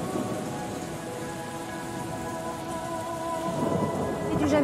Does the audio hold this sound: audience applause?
no